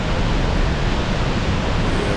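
Fast-pouring waterfall split into two channels of rushing water, heard as a loud, steady broadband roar with no pauses, close and continuous throughout, with no voices.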